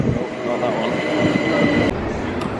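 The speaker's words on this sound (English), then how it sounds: "that was actually the Gatwick Express train" A Gatwick Express train rumbles heavily at a Gatwick station platform, its loud, close wheels and motors thundering steadily with faint squeals and a couple of sharp clacks near the end.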